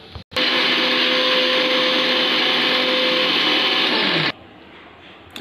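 A kitchen mixer grinder blends a chutney of chopped green chillies, dal and a little yogurt: a loud, steady motor whine starts abruptly, holds for about four seconds, then cuts off.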